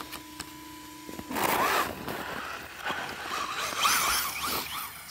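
T-Rex tape is ripped off the roll in a few loud, rasping pulls, each a harsh tearing scrape, preceded by a faint electronic beep.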